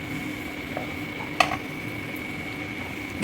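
Green peas and tomatoes sautéing in a pan, being stirred and mashed: a faint steady sizzle with one sharp utensil scrape against the pan near the middle, close and quiet, with no talk.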